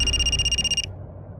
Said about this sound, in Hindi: दिल्ली से पीएसआई तोमर का फोन।